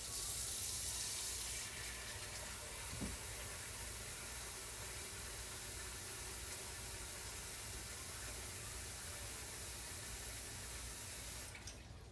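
Kitchen tap pours warm water into a sink in a steady, close, continuous hissing rush that carries on unbroken for over ten seconds, with no one talking.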